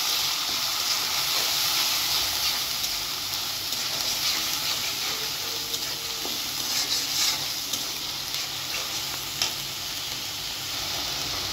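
Chopped onion with ginger and garlic paste frying in a pan of hot oil with cardamom and cinnamon, a loud, steady sizzling hiss that runs unbroken throughout.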